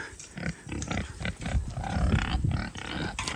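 Mangalitsa pigs being moved out of a fenced pen into a cover crop field grunt and snort in a busy, overlapping jumble, close and fairly loud against a rough outdoor background.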